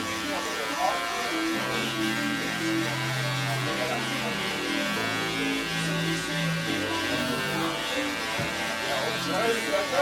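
Electric hair clippers with a number 4 guard, lever fully open, buzz steadily through a haircut while someone talks over the hum throughout.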